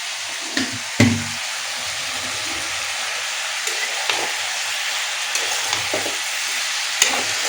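Malabar spinach with shrimp, salted, being stirred and fried in a pan: a continuous loud sizzle with a sharp spatula knock near the start and lighter scrapes and taps at irregular intervals.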